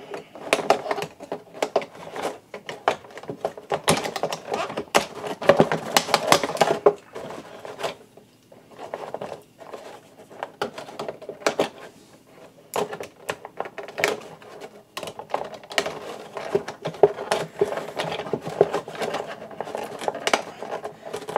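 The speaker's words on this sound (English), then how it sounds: "So many small little things to cut out to get these figures out of their packages." Scissors snip and plastic packaging crackles as Transformers Shattered Glass Optimus Prime and Ratchet figures are cut free from their packaging, with a steady run of small close clicks and cuts and a brief pause midway.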